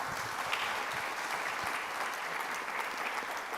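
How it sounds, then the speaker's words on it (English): Audience applause at a trade and economic forum, a steady dense wash of clapping from a seated crowd, moderately loud and sustained with no talking over it. "I hope you join me in giving him a round of applause."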